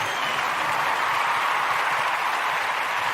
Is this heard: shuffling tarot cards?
no